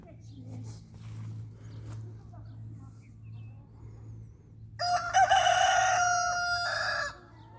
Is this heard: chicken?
yes